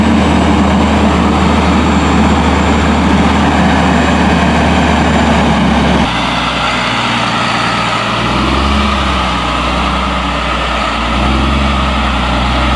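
A truck delivering roof trusses to a cabin build site drives and turns around, its heavy engine droning loud and steady throughout, dropping to a lower, rougher rumble partway through as it maneuvers.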